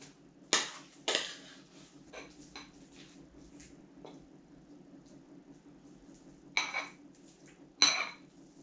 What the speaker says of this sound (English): And then we transfer it all to the serving dish